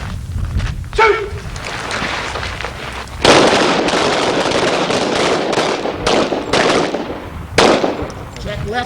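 Pistol gunshots during a kneeling drill at the Gunsite shooting range, a loud sharp crack near three seconds and another near seven and a half, with an instructor's voice heard early on.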